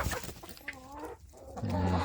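Chickens, including Silkie-type black-skinned fowl and laying hens, cluck and call in a rural backyard coop, a close run of drawn-out squawks and clucks rising into a louder, steadier hen call at the end.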